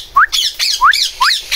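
A parrot in a small mini zoo squawks loudly and close by, giving a run of harsh, rising screeches in quick succession with no talk over it.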